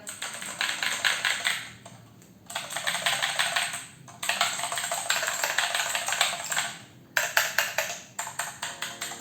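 Rapid typing on a Vortex VX7 Pro TKL mechanical keyboard, unmodified with a plasticky sound, produces dense close clicking bursts separated by short pauses, with no talking.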